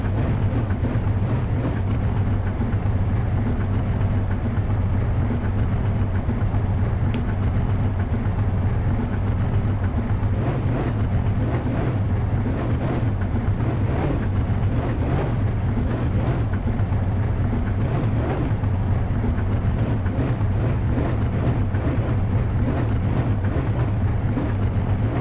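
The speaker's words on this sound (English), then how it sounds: "the car sounds like it runs rough a bit" An old car engine, freshly rebuilt, idles roughly with a steady low rumble and uneven pulsing, running continuously and fairly loud close by, no talking.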